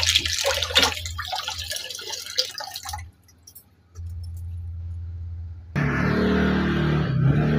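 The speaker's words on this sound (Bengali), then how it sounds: "পাথরগুলোকেও সেম জলের মধ্যে এরকমভাবে রগড়ে রগড়ে পরিষ্কার করে নিতে হবে।" Aquarium stones are scrubbed and rinsed in water, making loud, continuous rattling and clattering with splashing and dripping. It pauses briefly midway, then resumes fuller and heavier.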